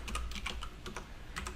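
Rapid typing on a computer keyboard, with irregular clusters of crisp key clicks under a low steady background hum and no voices.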